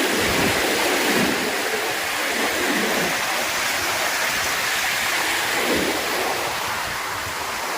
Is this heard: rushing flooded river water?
yes